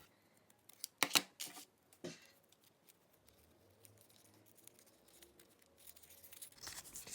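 Scissors snip out a paper flower shape in a few sharp, close cuts, then quieter rustling and handling of paper with brief crinkles near the end.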